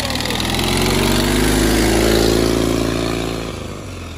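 A lawnmower fitted with ATV snow tracks drives in fourth gear through deep snow, its small engine droning loud and close with a steady rising pitch that eases off near the end.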